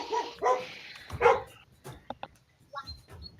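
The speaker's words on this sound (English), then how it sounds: "you don't need to add barking for Brutus" Dog barks from a soundboard play during a tabletop Pathfinder game session: a few sharp, fairly close barks and yips in quick bursts, followed by fainter scattered yelps with quiet pauses.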